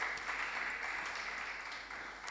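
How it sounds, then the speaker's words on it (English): Audience at a conference event clapping for Verdant Zeal, a continuous, fairly faint wash of applause from a seated crowd that holds steady for a couple of seconds. "A round of applause for Verdant Zeal"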